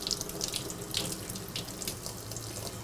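Water runs steadily from a kitchen faucet, rinsing seeds off roasted red peppers, a close continuous splashing stream with small spatters as it hits the peppers and sink.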